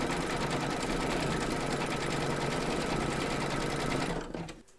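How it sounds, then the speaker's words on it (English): An embroidery machine stitches an in-the-hoop crazy patch quilt block with a fast, dense, steady whirring chatter that runs continuously, then cuts off abruptly near the end. "Load your thread colour for the quilting of area 2 into your machine, and then stitch round number 7"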